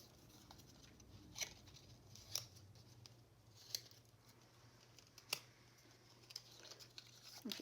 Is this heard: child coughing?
no